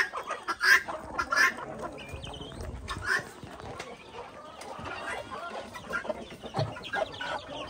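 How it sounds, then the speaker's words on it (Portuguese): Hens with young chicks cluck on a rural farm as they are let out of their coop, a few close, loud clucks standing out over steady background farmyard sounds. "Agora eu vou lá soltar as galinhas de pintinho."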